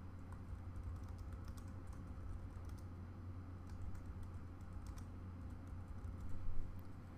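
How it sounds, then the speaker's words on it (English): Steady typing on a computer keyboard, a fast patter of light key clicks over a low background hum, close and moderately quiet with a slightly louder burst near the end. "From here you can simply type in the address, and don't forget your title tags."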